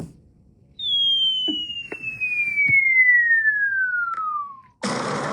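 A falling bomb whistle sound effect: one long, clear descending tone gliding steadily downward for about four seconds, ending abruptly in a short burst of broadband explosion noise.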